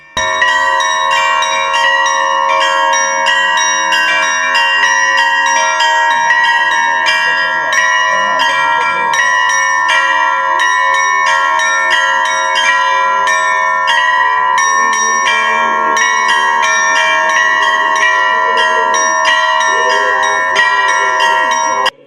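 Church bells ring continuously during an Easter procession around a church, a dense, sustained peal of overlapping strikes at steady loudness throughout, with faint voices beneath.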